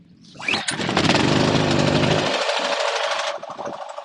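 A DENQBAR DQ-3800 inverter generator is pull-started: a quick cord rasp, then the small engine catches and runs at a steady, loud buzzing drone before dropping to a lower, quieter idle, with no talk.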